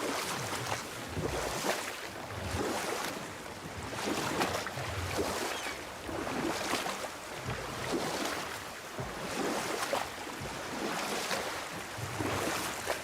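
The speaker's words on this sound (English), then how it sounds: "Keep rowing towards the statues of the oarsmen, then thread past between them." Rowing a wooden boat across open water in God of War (2018): rhythmic oar strokes swell and ebb about every two seconds, with water wash and wind, and no voices.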